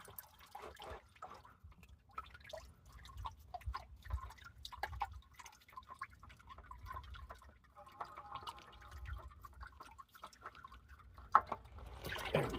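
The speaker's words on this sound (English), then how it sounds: "Let it drain into the oil pan here." Engine oil drains from a 2014-2018 Chevy Silverado 5.3L V8 into a catch pan, a quiet intermittent dripping and trickling that runs throughout at a low level with faint handling noises nearby.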